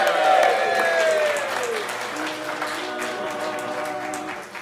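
A concert audience applauds and cheers for a singer, the clapping strongest at first and gradually fading, with a voice speaking over it and faint musical tones underneath.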